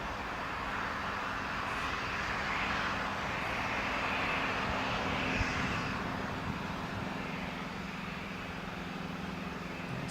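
A Boeing 737 MAX jet takes off from runway 25 at Newcastle International Airport, its engines giving a steady, broad roar that sounds distant yet continuous throughout.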